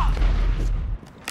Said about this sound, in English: Enemy cluster strike